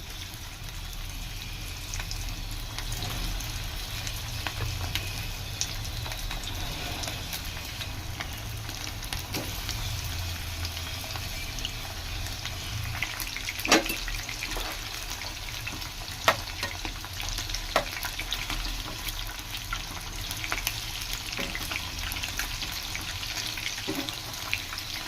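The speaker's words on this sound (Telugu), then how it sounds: "డీప్ ఫ్రై చేసుకొని" Bone-in chicken pieces deep frying in hot oil give a steady, dense bubbling sizzle with occasional sharper pops and crackles, continuous and close for the whole stretch with no talking.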